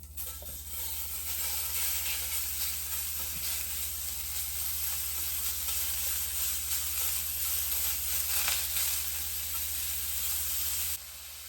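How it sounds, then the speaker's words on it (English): Steak bites searing in a very hot pan give a loud, continuous sizzle and crackle throughout, steady and close, with a faint low hum beneath and no voices. "We're gonna sear our steak bites, so we definitely want the pan to be nice and hot"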